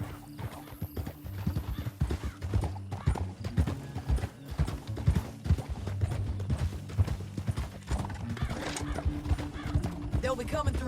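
Horse hooves pound in a steady galloping clip-clop in the Red Dead Redemption 2 video game, with a whinny and game music underneath, while someone talks over the riding.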